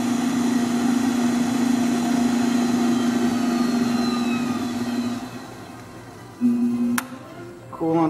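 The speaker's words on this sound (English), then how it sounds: "The machine is now at its highest RPM setting, which is about 3000 RPM." SMART CUT GP 8-inch variable-speed grinder/polisher running at its top setting of about 3000 RPM, giving a steady loud mechanical hum with a constant pitch, then briefly dipping, followed by a few sharp clicks and a shift near the end.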